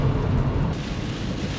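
Heavy rain and a deep rumble of thunder heard from inside a car driving across Siberia, a loud continuous roar of downpour with low rolling thunder, no voices.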